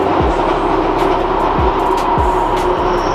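A train passing close by, a loud steady rumbling roar with a few low clanks from the rails, continuous throughout with no talking.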